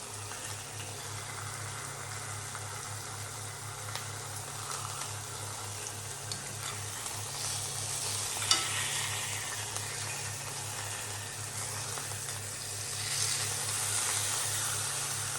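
Steady, close sizzling of food frying in a hot pan while a full English breakfast cooks, a continuous hiss with a faint low hum underneath and one brief knock partway through.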